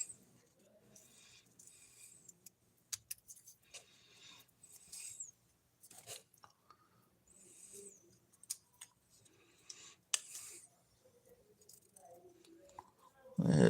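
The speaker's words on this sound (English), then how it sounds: "I'll cut the stems off." Scissors snipping the stems off craft products indoors, a series of short, quiet, scattered snips and rustles with faint handling noise in between and a louder bump at the end.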